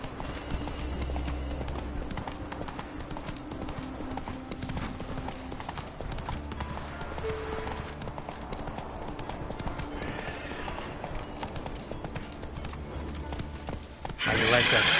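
A horse ridden in The Witcher 3: Wild Hunt, its hooves clip-clopping in a steady galloping rhythm with occasional neighs, up close over game ambience, ending in a louder burst.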